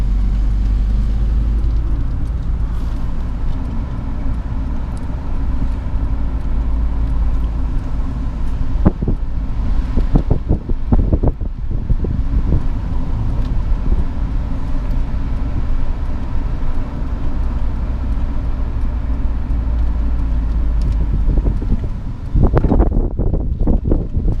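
Steady rumble of a car driving along Forest Road in Burnt Hills, New York, heavy low engine and road noise with wind buffeting, close and loud throughout, with brief surges and rattles midway and near the end as gears shift.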